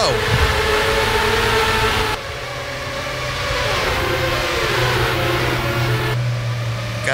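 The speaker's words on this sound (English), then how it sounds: "Gotta love the sound of these cars" Race cars at Phoenix International Raceway during the Copper World Classic, loud engines roaring steadily with rising and falling pitch as they pass, the sound dipping briefly then building again, with commentators talking over it.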